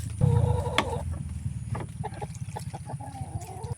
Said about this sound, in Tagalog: Iinom na yung manok.